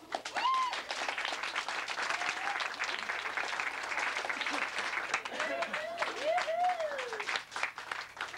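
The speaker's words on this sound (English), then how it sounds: "Let's give them a round of applause." Wedding guests applaud performers Flamanda and Tim at Roger and Susannah's 1996 wedding, a steady sustained wash of clapping that fills the room, with voices and a few whoops rising over it.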